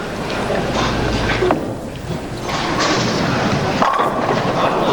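A bowling ball rolls down the lane and crashes into the pins on a pocket shot at a professional tournament, leaving the 7-pin standing; a loud clattering impact with rumbling alley ambience behind.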